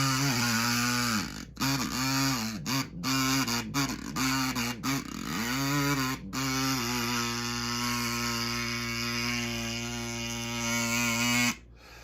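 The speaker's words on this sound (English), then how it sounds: "So that was me tightening it and actually exhaling during that tightening process." A kazoo buzzes with a reedy, nasal tone as someone exhales through it while tightening it, the pitch swooping and wavering in short bursts before settling into a long, steady drone.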